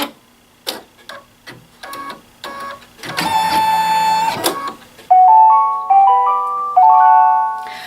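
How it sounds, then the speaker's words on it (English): An embroidery machine stitches with a few short mechanical clicks, then plays a loud electronic beep followed by a short rising melody of tones marking a finished design, close and clear with no talking. "That sound is the special sound because that means the whole design is completed."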